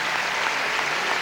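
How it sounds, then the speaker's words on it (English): Dense, steady applause from an ice hockey arena crowd for an injured player during a 1999 Superleague game between Manchester Storm and Bracknell Bees, heard close and continuous without talk. "The crowd deservedly giving Kelly Askew a round of applause."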